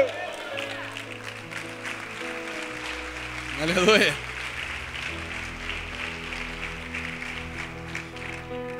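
A church congregation breaks into applause and shouts after a sermon declaration, a brief swell of clapping and cheering lasting about a second, with a voice calling out over it and speech continuing around it.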